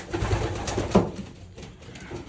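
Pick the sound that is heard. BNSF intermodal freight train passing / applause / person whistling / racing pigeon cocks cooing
racing pigeon cocks cooing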